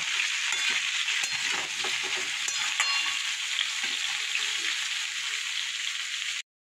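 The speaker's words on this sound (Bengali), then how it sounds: "সবজিটা কিন্তু নুন হলুদ দিয়ে ভাজা ভাজা হয়ে গেছে" Vegetables fry with salt and turmeric in a pan, giving a steady, fairly faint sizzle with occasional scraping stirs, no voices, until the sound cuts off abruptly.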